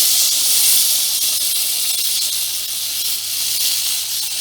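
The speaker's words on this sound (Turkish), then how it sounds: "kaynamış suyumu da ilave ediyorum" Boiled water is poured into a pot, making a loud, continuous hiss and rush that holds steady throughout, with no speech.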